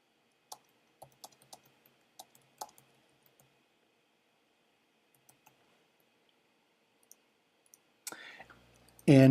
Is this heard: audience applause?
no